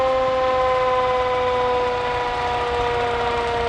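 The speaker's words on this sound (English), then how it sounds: "it's nice that they've kept it down a little bit and not the real loud siren going by" A siren sounding at a 2013 Derry holiday parade as it passes, turned down from its full volume, gives a steady, sustained wailing tone that holds at a constant moderate loudness throughout.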